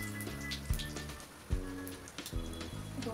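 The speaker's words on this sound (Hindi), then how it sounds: "अब हम कढ़ी के लिए तेल गर्म कर रहे हैं, और इसमें हम 1 चम्मच जीरा रखेंगे" Cumin seeds, two dried red chilies and bay leaves crackle and sizzle in hot oil for kadhi, a dense patter of pops like rain running throughout with a few sharper spits, over a low steady background tone.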